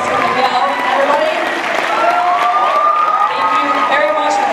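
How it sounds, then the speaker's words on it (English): An audience at San Pedro High School applauds for Miguel, a steady wash of clapping and cheering that fills the room, with voices and whistling-like tones over it. "Round of applause for Miguel, everybody."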